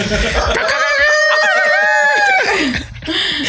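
A man imitates a rooster crowing with his voice, a loud, close, drawn-out crowing cry with a wavering pitch that breaks off near the end into brief laughter.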